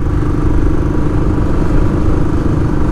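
A Royal Enfield Classic 500 single-cylinder motorcycle climbs a mountain road, its engine thumping loudly and steadily close to the microphone throughout, with no voices.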